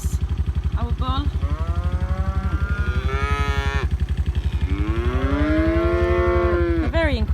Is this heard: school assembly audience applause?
no